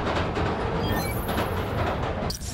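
In Spider-Man: Miles Morales, a nearby subway train roars past with a loud, continuous rushing rumble of wheels on track, briefly interrupted near the end, with no one speaking.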